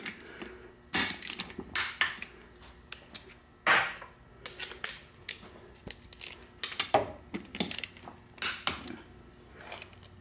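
A ratchet torque wrench tightening bolts on a Muncie four-speed transmission, with short bursts of rapid clicking pawl strokes repeating in uneven groups, close and clear in a quiet shop.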